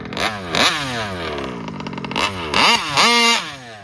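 A Vesla motorcycle engine with a slipping clutch revs in repeated bursts, pitch sweeping up sharply then falling back, with a rough clattering idle between the surges, close and loud.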